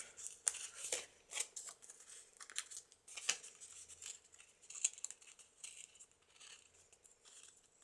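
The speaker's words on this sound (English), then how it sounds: "And then just rip off the side." A paper tag being torn along its side, a series of faint, close ripping and crinkling bursts spread over several seconds in a quiet room.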